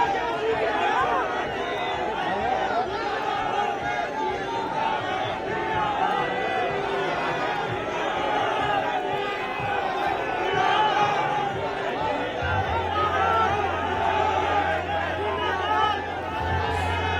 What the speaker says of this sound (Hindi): भारी समर्थकों की भीड़, काफिला गुजरते हुए अब नामांकन प्रक्रिया दाखिल करने के लिए निकल